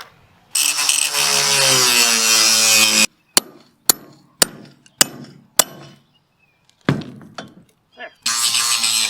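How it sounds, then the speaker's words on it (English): A power grinder works over wooden photo booth frames for a vintage camper, a long loud continuous whine, then a string of short sharp bursts, and a final stretch of steady grinding. "All right, let's grind them."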